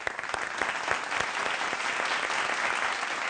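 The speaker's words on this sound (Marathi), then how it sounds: "विनय आपटे सरांसाठी एकदा जोरदार टाळ्या" A theatre audience applauds loudly and steadily for the whole stretch, a dense, continuous wash of many hands clapping with no voices breaking through.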